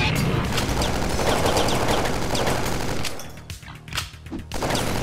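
Sustained loud gunfire from a video game shooter rattles in dense automatic bursts, briefly dipping before resuming, with explosive crashes mixed in and voices over the top.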